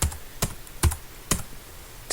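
Keys pressed on a computer keyboard while configuring an Amiga emulator: four separate, crisp clicks spaced about half a second apart, close and fairly quiet, with no talking.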